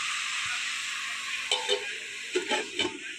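Chopped red amaranth greens fry in a pan, giving a steady sizzle under a few close scraping strokes of a spatula, bunched in the second half.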